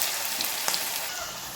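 Bitter gourd frying in oil in a pan makes a dense, even sizzle with small crackling pops, close and steady throughout.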